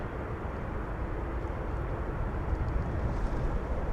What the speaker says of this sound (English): Qatar Flight 732 to Doha, and well, it looks like we're going to get a takeoff from it over here on 18 left